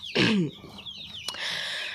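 Domestic chickens on a small farm cluck and squawk close by, one loud squawk followed by softer clucks and chirps against a steady background hum.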